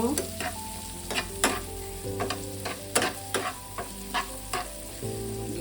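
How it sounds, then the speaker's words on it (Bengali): Onion and capsicum sizzle steadily as they are stirred in a frying pan, with repeated sharp scrapes and clinks of the spoon against the pan over a constant frying hiss, close and clear. "পেঁয়াজ আর ক্যাপসিকামটা দিয়ে দেবো। এটাকে ভালো করে একটু নেড়ে নেব।"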